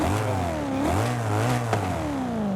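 A BMW M3 GTR engine in Forza Horizon 5 revs loudly and steadily, pitch rising and falling through gear shifts, with a brief sharp pop near the end.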